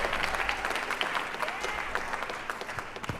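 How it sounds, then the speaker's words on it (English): An audience claps for a speaker taking the stage at an Ignite talk during Podcast Movement 2019, with steady dense applause throughout and a few louder claps near the end, while voices murmur beneath it. "Give him a round of applause."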